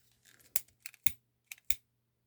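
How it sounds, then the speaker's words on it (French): Scissors snipping off the end of a synthetic bracelet thread, a few quiet, crisp close-up cuts spaced irregularly, the last two sharpest, in a near-silent room. "on va venir tout simplement couper le bout"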